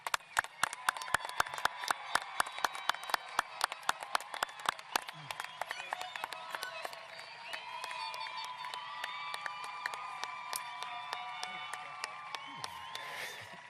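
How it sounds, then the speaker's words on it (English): Graduation audience at a Gibbs High School ceremony for the class of 2020 gives the graduates a round of applause, a dense run of claps with some cheering that holds steady from start to finish. "Will you all join me in giving our graduates one more round of applause"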